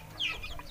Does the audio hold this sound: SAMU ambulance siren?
no